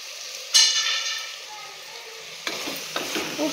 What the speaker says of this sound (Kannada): ಅದಕ್ಕೋಸ್ಕರ ಇದೊಂದು 2 ನಿಮಿಷ ಫ್ರೈ ಆಗಬೇಕು.